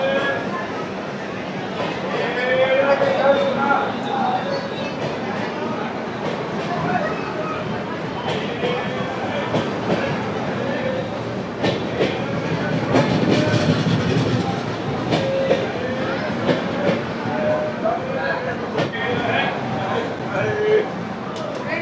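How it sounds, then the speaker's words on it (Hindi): Janhit Express passenger train running on rails after leaving a junction stop, with a continuous loud rumble and rattle of the carriages, faint rhythmic clatter and occasional squeals, as heard from inside the train beneath chatter from passengers. "20 मिनट रुकने के बाद हाजीपुर जंक्शन, सोनपुर जंक्शन से अपनी ट्रेन खुल चुकी है"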